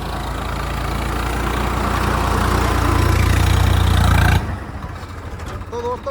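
Swaraj 855 tractor engine laboring under heavy load, a steady loud low drone that swells then drops off abruptly near the end, followed by a quieter rumble with faint talk.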